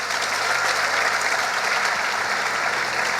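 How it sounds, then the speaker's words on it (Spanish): A church congregation applauds steadily in a large hall, a thick continuous wash of many hands clapping at even volume, with a low hum beneath. "Denle un aplauso al Señor"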